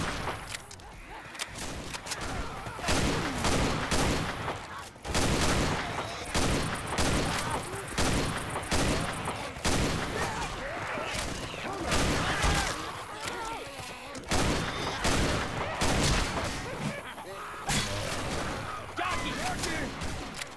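Assault rifle fire in Left 4 Dead 2 on The Parish campaign, loud repeated bursts of shots with short pauses between volleys, joined by other combat noise and brief speech.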